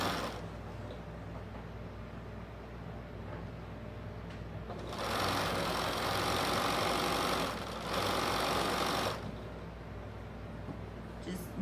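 A sewing machine hums faintly, then runs louder in two steady stretches of stitching fabric for a spider wall hanging, close by.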